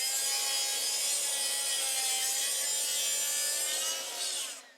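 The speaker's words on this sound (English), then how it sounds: "Now I've got a sheet of plywood right over there, and my track saw is set up. Let's cut some strips and get after it." A track saw slices a strip from a sheet of plywood, a loud steady high whine with rasping cutting noise that holds for several seconds and then fades as the cut finishes.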